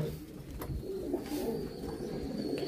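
Pigeons coo steadily in a loft, a continuous layered murmur of soft throaty calls from several birds, fairly close and unbroken by talk.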